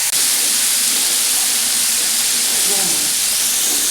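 Fish fries on a hot tawa without semolina coating, a loud, continuous close-up sizzle and hiss that fills the whole moment with little change.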